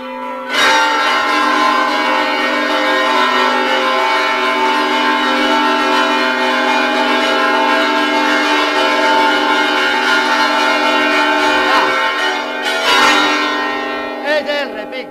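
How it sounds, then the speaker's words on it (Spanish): Church bells ring loud and sustained in the bell tower of San Juan Girón, rich overlapping tones with a steady shimmer and a brief brighter clang near the end, no voices heard. "las campanas que, de acuerdo a sus habitantes, son de las que mejor suenan en el país"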